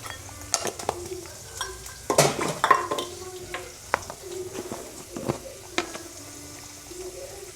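Whole cumin, a small piece of cinnamon, two cloves and a pinch of turmeric frying in hot oil, with soft sizzling, a spoon scraping and stirring, and light clinks against the pan, close and fairly quiet.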